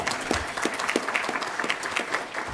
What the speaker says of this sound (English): Round of applause for Christina.